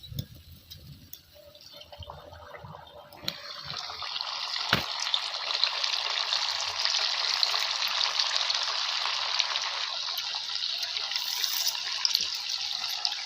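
Sabudana vadas frying in hot oil, a steady broad sizzle that swells after a few seconds and holds loud and close throughout, with faint clinks at the start.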